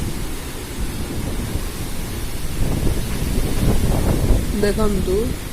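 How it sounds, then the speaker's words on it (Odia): Strong wind of Cyclone Bulbul blowing hard enough to break trees, a loud continuous rushing roar with buffeting gusts, and a person's voice briefly near the end. "କେତେ ଜୋର ପବନ ହେଉଛି, ଗଛକୁ ମଧ୍ୟ ଭାଙ୍ଗି ପକାଉଛି।"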